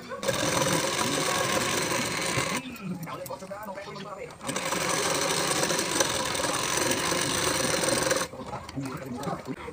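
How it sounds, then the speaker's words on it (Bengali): A sewing machine stitches the belt part of a 38-size bra-cut blouse, its steady motor whir running in two long bursts with a short pause between, while someone talks over it. "বেল্টের পার্টটি একসঙ্গে করে নিয়ে আপনারা সেলাইটি দিয়ে নেবেন"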